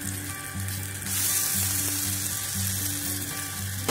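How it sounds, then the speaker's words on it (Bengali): Potato and pea kebabs fry in hot oil, giving a steady, dense sizzle with bubbling crackle that swells slightly partway through, close and continuous with no talking. "এইভাবে আমরা তিনটে পার্টে সবগুলোকে ভেজে নেবো।"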